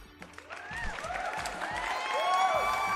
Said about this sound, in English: It does like an audience cheer with clapping.